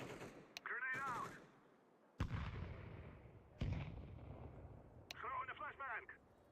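A grenade thrown in Counter-Strike 2 goes off as two heavy booming blasts a second or so apart, with muffled voices in game chat before and after.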